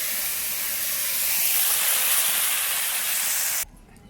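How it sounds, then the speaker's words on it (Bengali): Potatoes frying in hot oil in a wok, a loud, steady broadband sizzle and hiss that holds evenly for several seconds before cutting off abruptly near the end. "আলুটা ভালো করে ভেজে নেবো"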